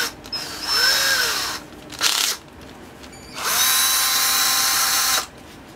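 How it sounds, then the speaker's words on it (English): A hand drill spinning a wooden leather-burnishing tool whirs in bursts: a spin-up and run, a short burst, then a longer steady run, with quiet pauses between. "Then attach it to my hand drill."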